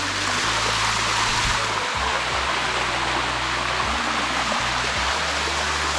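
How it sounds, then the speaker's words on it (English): Waterfall in Thailand, a loud, steady rushing roar of falling water heard up close, continuous and unbroken, with no voices over it. "this is really nice waterfall."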